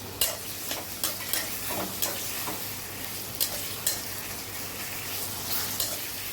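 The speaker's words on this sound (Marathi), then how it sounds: "आता वांबेचे तुकडे ना काते सोडत नाहीत म्हणून त्याला तेलावर परतून घ्यायचं" Fish pieces fry in hot oil with chopped onions, giving a close, steady sizzle broken by regular scraping stirs about once a second.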